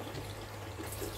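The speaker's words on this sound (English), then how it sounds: "So you can see water is actually coming out from the hole." Water trickling and pouring out of an unglued hole in the bottom of a homemade aquaponics setup, a steady low splashing flow with no talk.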